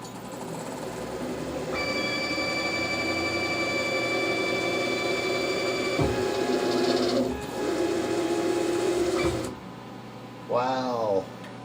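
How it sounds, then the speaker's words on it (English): Homemade CNC tap holder with clutch driving a hardware quarter-20 tap half an inch into a blind hole at 500 RPM: steady machine whine with a high tonal hum, stops and restarts, then a brief rising sweep near the end. "this is the second test, quarter 20, blind hole, hardware tap, and half-inch deep tap at 500 RPM"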